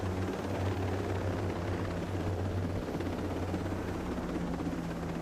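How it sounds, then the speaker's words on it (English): Helicopter in the video game Ghost Recon Breakpoint, a loud steady rotor drone with low thumping beat running continuously throughout, close and unbroken with no talking. "That's why I grabbed a helicopter."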